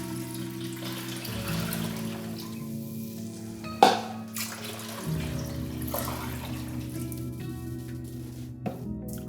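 Aquarium water is scooped from a reef tank and poured into a container for a coral rinse, giving soft sloshing and a short splash, with faint handling noises around it.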